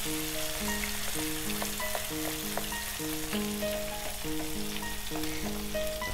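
Prawns frying in oil in a pan make a constant close crackle and sizzle, with music playing underneath.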